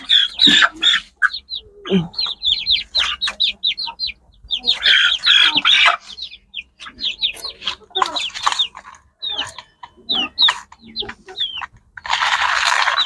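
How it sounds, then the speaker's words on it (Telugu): Chicks in a poultry setting peep constantly in rapid, high, chirping bursts, close and fairly loud, with brief pauses between flurries. "మన కోడి పిల్లలు అయితే ఇస్తాం చూడండి."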